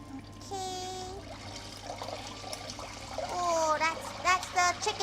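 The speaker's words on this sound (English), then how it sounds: "water coming out." Tap water running in a home kitchen while chicken nuggets and loaded fries are being cooked, a steady trickle under intermittent talk and clatter that swells louder toward the end.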